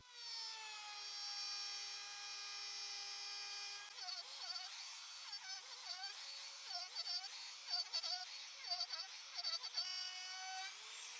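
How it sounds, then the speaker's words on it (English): A wood router with a side guide machines pieces of wood. First comes a high, steady motor whine, then a rougher, pulsing cutting noise as the bit bites into the wood in repeated passes. "Now, I will use the router again with the same bit, but with the side guide."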